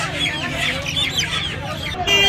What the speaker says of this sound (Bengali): এখানে দেখুন সোনালী দেশি মুরগি আছে